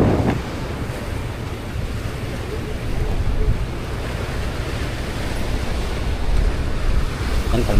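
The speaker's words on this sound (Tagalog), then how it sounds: "Yan, kalmada lang ang dagat." Wind and sea wash out on the open Pacific Ocean, heard from a boat, as a steady broadband roar with low rumble that swells slightly midway and toward the end, continuous and fairly loud, with no clear voices.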